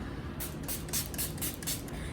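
Several short, hissing bursts of fine makeup setting spray mist out in quick succession, soft and close.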